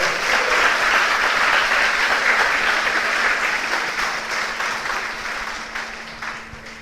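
An audience applauds loudly and steadily, a thick roar of clapping that slowly fades over several seconds.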